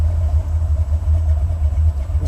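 A Buick 455 Stage-1 Regal-T on the move, fitted with a posi-rear and updated fuel system and intake manifold: a steady, loud low engine rumble holds throughout from inside the car, with no talking.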